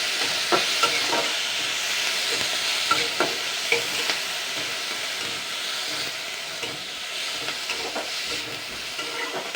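Chopped garlic, green chili and onion stir-fried in a pan, a steady sizzle broken by repeated scraping and clinking spatula strokes at an irregular rhythm, close and fairly loud with no talk.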